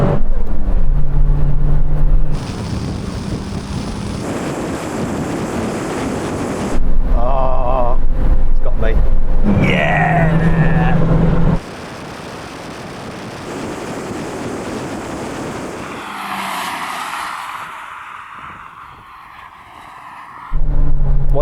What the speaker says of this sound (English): Here comes Matt's gear shift